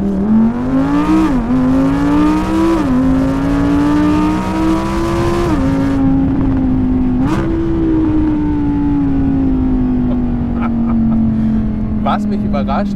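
Audi R8 V10 performance with 620 PS, engine droning loudly and steadily while driving on the road, revving up through gear changes early on and then settling into a long, gradually falling cruise note.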